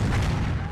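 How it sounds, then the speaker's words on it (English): Tri-shot cannons firing in a Warhammer Online open RvR battle, a deep, continuous low boom rumbling loudly through the whole short moment. "And you can hear the cannons going off in the background. It's the tri-shot cannons."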